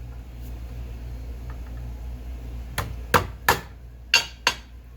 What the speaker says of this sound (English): I use the hammer just to get into the slots in the screw head so that the screwdriver grabs a hold of it